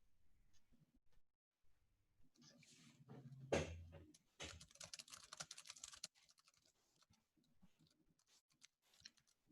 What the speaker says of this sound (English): I could hear a keyboard